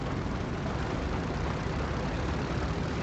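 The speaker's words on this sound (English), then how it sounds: "Big plane coming through." In GTA Online, a big plane passes overhead as a steady, dense engine roar that fills the whole moment at an even, fairly loud level, with no speech.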